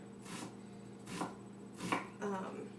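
A knife chops onions on a cutting board in a home kitchen, giving three or four separate, fairly soft chopping strokes with quiet pauses between them and no talk.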